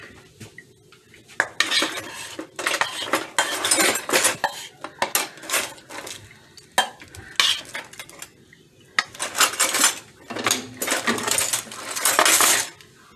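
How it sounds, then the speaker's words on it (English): A spatula scraping and clinking against a metal baking sheet as chocolate batter is spread, giving repeated close bursts of scraping and tapping with short pauses between strokes. "you're going to take your spatula and you're just going to spread that chocolate evenly"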